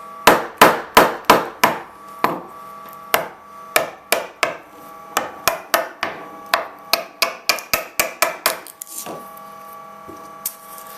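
Hammer strikes tapping a chisel into a wooden door to cut a hinge mortise, a close, sharp series of knocks in quick bursts with short pauses, slowing toward the end.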